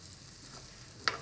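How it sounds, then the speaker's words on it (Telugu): Tempering spices sizzling in hot oil as a spoon stirs through them, a soft steady fry with one sharp scrape of the utensil near the end, heard alone and close. "తాలింపు సామాన్లన్నీ కూడాను మాడకుండా మనం ఇలా రిమూవ్ చేసుకోవచ్చు ఇలా టర్న్ చేసుకోవచ్చు"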